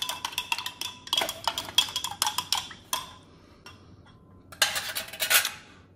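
A utensil stirs MRE food in a pouch, giving close, quiet bursts of metallic scraping and clicking, broken by a short pause and then another round of stirring.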